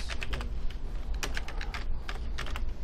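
Rapid, steady clatter of fingers typing on a computer keyboard, close and continuous, with irregular bursts of keystrokes and no voices.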